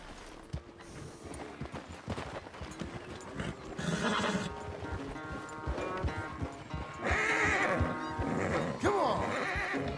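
Horses in a Wild West ranch corral in Red Dead Redemption 2 whinny and neigh over steady clip-clopping hooves, loud and close throughout, with a sheep-like bleat blending into the busy mix.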